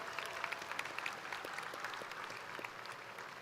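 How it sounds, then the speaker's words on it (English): Steady applause fills a graduation ceremony hall, many hands clapping at once in a dense, even wash. It sounds somewhat distant and holds at a constant level throughout. "Let's give our Superintendent a big round of applause"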